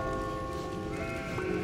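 A sheep in the video game Catherine bleats in a sustained, wavering cry over game background sounds, close and clear.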